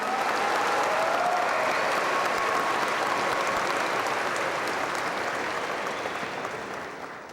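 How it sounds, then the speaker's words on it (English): Audience applause at a 2019 high school graduation ceremony honoring the color guard and choir: steady, dense clapping from a large crowd, sustained and even throughout, tapering off slightly at the very end. "Please join me in giving our color guard and our choir a round of applause."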